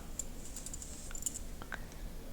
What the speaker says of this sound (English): Nice and clacky because they're metal needles.